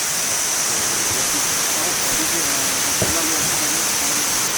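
Kuang Si Waterfall in Luang Prabang, Laos, roars as a steady, dense wash of falling water close by, with voices talking faintly beneath it.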